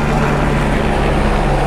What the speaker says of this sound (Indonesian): Wes suara helikopter.